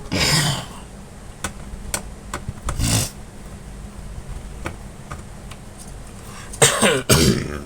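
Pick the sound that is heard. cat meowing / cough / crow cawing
cough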